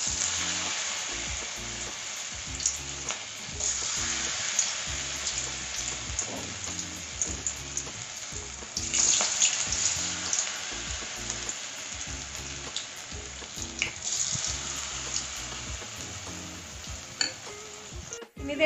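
Snake gourd pieces deep-frying in hot oil, a steady close sizzle with crackling bursts throughout, plus occasional light clinks of a utensil against the pan.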